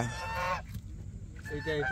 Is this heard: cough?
no